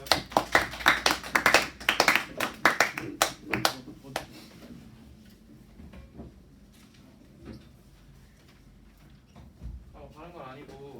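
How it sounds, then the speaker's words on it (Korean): Applause from a Korean lecture audience, a burst of clapping that fades out after a few seconds, followed by quieter room sounds and speech. "박수 한번 줄까요?"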